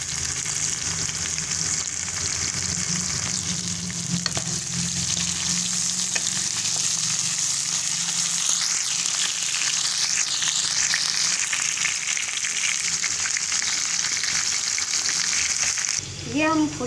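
Green chilies sizzle and fry in hot mustard oil, a dense steady crackle with intermittent stirring scrapes, close and continuous, ending with a brief clatter.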